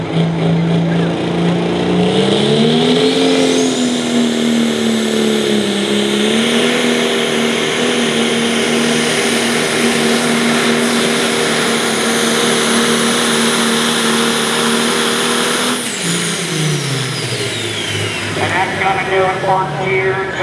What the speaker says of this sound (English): Here comes the John Deere 6030.